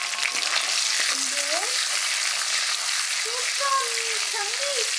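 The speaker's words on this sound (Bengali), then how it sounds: "এর মধ্যে আমি দিয়ে দেব যে টমেটোটা আমি কেটেছিলাম তার হাফ" Tomato halves frying in a pan with oil while cooking, a steady close sizzle filling the whole stretch, with some faint stirring scrapes and brief tonal squeaks over it.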